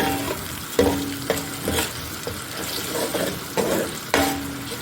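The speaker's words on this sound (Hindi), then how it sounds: "टमाटर हमारे अच्छे से भून रहे हैं" Tomatoes and green chilies fry in oil with ginger-garlic paste for an aloo chicken curry, giving a steady close sizzle broken by several sharp scrapes and clanks of a spoon stirring the pan.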